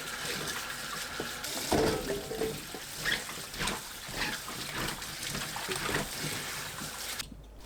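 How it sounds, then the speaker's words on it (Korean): Ginger being rinsed under running water, a steady close faucet stream with splashing and trickling as the roots are turned by hand, no talking. "생강을 물에 가볍게 헹궈냅니다."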